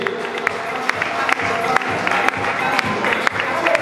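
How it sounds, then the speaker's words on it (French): Audience applauds a designer at a Paris fashion show, steady clapping mixed with crowd noise and occasional louder claps, with some voices underneath. "Je veux plus d'applaudissements encore pour l'artiste."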